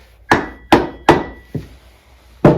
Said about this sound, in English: I'm going to gently tap this with the copper side of the hammer